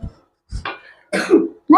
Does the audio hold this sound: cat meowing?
no